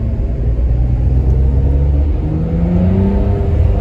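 A Ferrari 599 engine accelerates hard on the road, its deep rumble climbing steadily in pitch as it pulls, loud and close throughout, with no talking.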